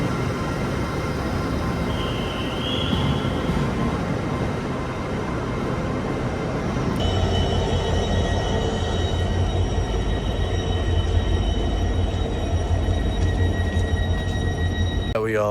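A train runs along the rails on a two-hour trip to Peterborough, giving a steady, continuous rumble with faint higher tones, which thickens and grows louder partway through as the carriage noise builds.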